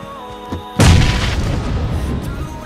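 A grenade exploding in the mobile battle royale game BGMI, a single loud, close boom followed by a rumbling decay, preceded by quieter game sounds.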